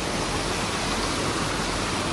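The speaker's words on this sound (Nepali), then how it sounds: "पुरै खेतबारीबाट जाने विशाल रूपमा जाने पानी यसरी" Floodwater surges across farm fields in a torrential, steady roar of rushing water, loud and continuous with no voices.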